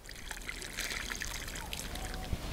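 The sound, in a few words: pouring water onto a newly planted Artemisia plant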